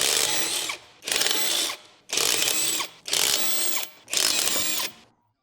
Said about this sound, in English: finish removing the lug bolts with the electric impact